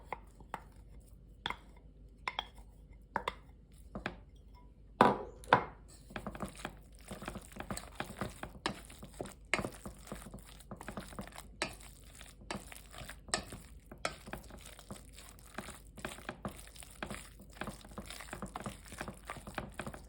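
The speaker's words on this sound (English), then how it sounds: "the potato has been mashed, so I'm just gonna mix those together" Mashed potato is mixed into a chopped vegetable mixture for bagia, giving repeated wet squelching, pressing and scraping sounds in an irregular rhythm that begin sparse and become dense and steady, close up and fairly quiet.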